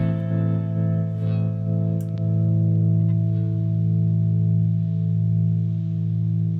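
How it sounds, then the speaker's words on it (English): An electric guitar played through a Vertigo harmonic tremolo pedal alongside modulated delay and plate reverb, sustaining a held chord whose tone pulses gently and steadily, with a faint strum-like transient partway through. "I could turn on my Vertigo tremolo."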